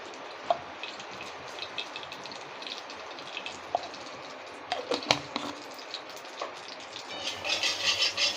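Panch phoron spices crackle in a little mustard oil in a Bengali village kitchen, a steady low sizzle with scattered pops and a brief clatter near the middle, growing busier toward the end, with no talk.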